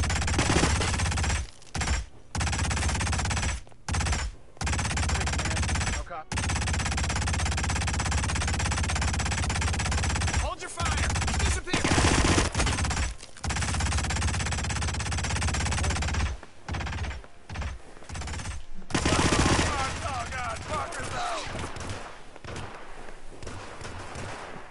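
Gunfire in the video game Hitman in Paris: dense, loud automatic bursts roar almost without pause, broken by a few brief gaps, for the whole stretch.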